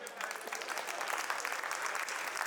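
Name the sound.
audience applause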